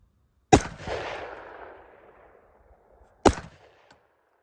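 A single .223 Rem rifle shot fired at a range with the listener 600 metres away: a sharp crack followed by a long rolling echo that fades over about two seconds, then a second sharp report near the end.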